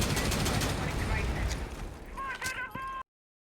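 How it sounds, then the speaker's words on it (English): Rapid automatic gunfire from the tactical shooter game Rainbow Six Siege rattles loudly and continuously for about three seconds, ending with a few ringing metallic shell-like tones before cutting to silence. "so I started firing over there"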